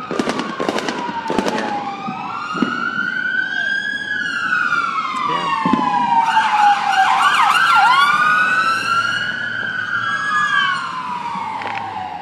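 A wailing ambulance siren sweeps up and down in pitch, loud and close, with sharp bangs and crackles from 4th of July fireworks going off around it in Los Angeles.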